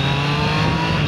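A freshly serviced motorcycle engine revving steadily at high RPM, loud and close, a smooth sustained drone with no gaps and no talk over it.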